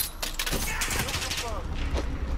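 Rapid gunfire bursts from the video game Modern Warfare on the map Crash, loud cracking shots packed together in a short flurry over steady game ambience.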